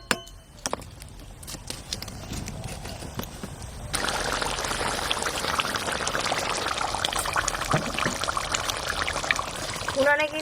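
Water pours in a steady, near stream into mutton kosha being cooked down in a pan, a louder rush taking over midway, with a voice speaking briefly over it.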